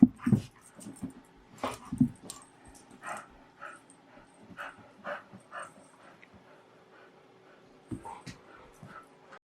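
Dogs roughhousing on a homemade Snoopy dog bed, with scattered close yips, whimpers, panting and soft thumps of scuffling in a quiet room, coming in short irregular bursts.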